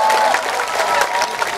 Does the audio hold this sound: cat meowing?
no